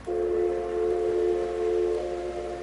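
A model railway control panel plays a sustained train whistle tone through speakers across a miniature town layout, one long steady blast that holds for about two seconds before easing off, fairly loud with no talking.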